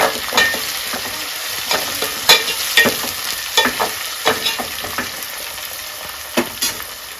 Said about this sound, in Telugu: దీన్ని దోరలుగా వేపుకోండి. ఆనియన్ బాగా వేగిపోయిందండి